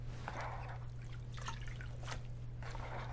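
Water dripping and trickling from blanched spinach squeezed by hand over a bowl, a few soft splashy bursts over a steady low hum, close and faint.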